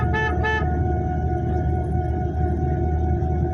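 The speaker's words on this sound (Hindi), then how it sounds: "हॉर्न दे देंगे लंबा" A car horn sounds in short double toots at the start over the steady rumble of a car being driven during a driving lesson, with the engine and road noise continuing alone.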